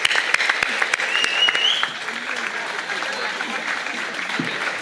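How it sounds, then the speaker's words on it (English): Applause from an audience at an annual cultural program, steady dense clapping for about two seconds that then settles into a softer, sustained patter with some background murmur. "Please let's clap for him, our Nariman uncle."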